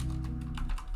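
Quick typing on a computer keyboard, with several light key clicks in an uneven rhythm, close and fairly quiet.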